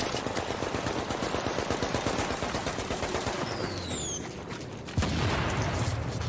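Rapid bursts of machine gun fire in The Division rattle continuously, briefly easing before a sharp louder burst resumes the firing near the end.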